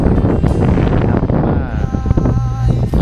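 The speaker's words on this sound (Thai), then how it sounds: "ลมมันเย็นนะครับ ลมมันเย็นอุณหภูมิประมาณ 22 องศาครับ" Cool wind blows steadily across the summit of Phu Ruea, a loud broadband rush buffeting the microphone for the whole stretch, with faint harmonic tones showing through near the end.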